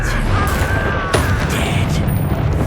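Casting of the Confringo and Incendio spells in Hogwarts Legacy: loud, continuous blasting and booming with a sharp crack near the middle, tonal effects overhead.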